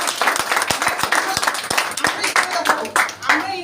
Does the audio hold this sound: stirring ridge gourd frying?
no